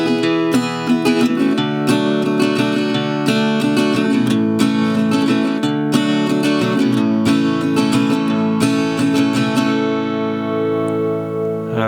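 An acoustic guitar strums a country-style bass-and-strum pattern through the chord progression of a song, bright and sustained, played close and alone for about twelve seconds.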